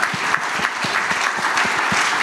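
Audience applause at a tech conference panel in Israel, a steady dense wash of clapping hands throughout, fairly loud and continuous with no talk over it.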